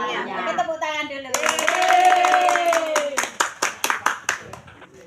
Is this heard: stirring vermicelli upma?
no